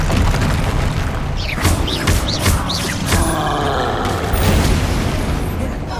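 Spell blasts and explosions from the Hogwarts Legacy video game, including fire and repelling spells, come as loud booms and bursts over constant dense combat noise.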